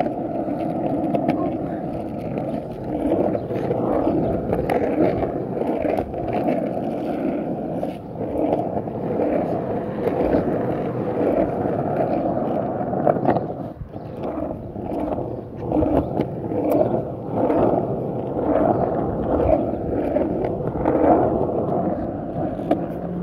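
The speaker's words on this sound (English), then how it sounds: "About to do a hill bomb." Skateboard bombing down a hill at speed, a continuous loud rumble of wheels on pavement with a steady roar throughout and brief rattles from bumps.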